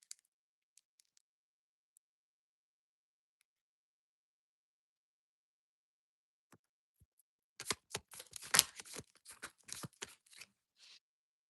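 Tarot cards are shuffled in a dense burst of crisp riffling clicks lasting about three seconds, after a long quiet stretch with only a few faint ticks.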